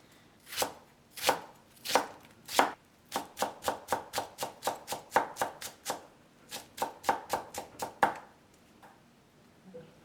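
A knife chops on a cutting board as sushi ingredients, shiso leaves and miso, are prepared. About twenty crisp, close chops come in uneven bursts, first slow and then quicker, with quiet between them.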